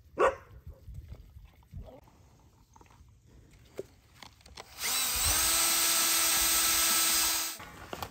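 A power drill boring holes while building an insulated concrete form foundation for a greenhouse: a steady high-pitched whir runs for about three seconds and then stops, after quieter clatter, a dog barking and people talking.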